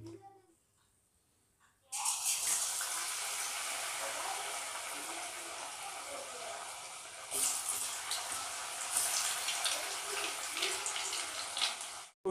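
Batter-coated cauliflower florets hit hot oil in a kadai for shallow frying: after a brief quiet moment, a sudden loud, even sizzling hiss starts and continues, swelling slightly midway.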